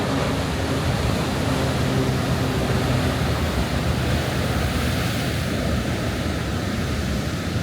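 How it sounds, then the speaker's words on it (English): Ocean surf rolling onto the beach at Half Moon Bay, California, a loud steady roar of breaking waves with wind buffeting the microphone, continuous and without talk. "These waves coming in are ridiculous."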